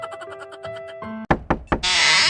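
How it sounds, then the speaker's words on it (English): A few sharp knocks on a door in an anime mystery set at an opera house, landing as distinct thumps right after a soft musical passage and followed by a sustained bright wash of sound. "All at once, Ryoko knocks at the door."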